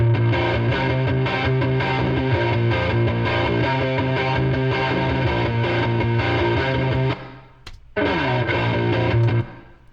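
Distorted electric guitar chords ring out with a long, washy reverb tail from Valhalla and Verb Suite reverb plugins, briefly cutting out near the end before the sustained sound returns.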